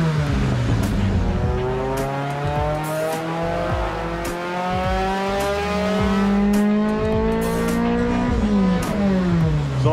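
A Toyota Camry engine swapped into an MR2 revs hard on a dyno pull, its loud exhaust note climbing and falling repeatedly through the gears. No one talks over it.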